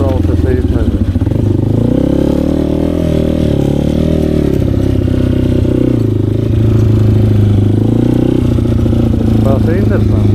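An Asix Defender 150 motorcycle rides offroad, its engine droning and revving up and down loudly and close throughout, with some clatter from the rough ground.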